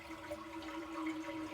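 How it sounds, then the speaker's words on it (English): An AquaSource toilet gives a short, quick flush, a faint, brief gush of swirling water heard close up and alone. "Now I'm going to give it the smallest possible flush"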